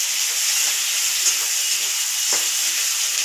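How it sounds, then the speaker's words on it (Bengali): Onions frying in hot oil in a pan for chicken kosha, a steady close sizzle and hiss that carries on without a break, with faint stirring scrapes. "এবার আমি পেঁয়াজটাকে হালকা লাল বাদামি করে ভাজব"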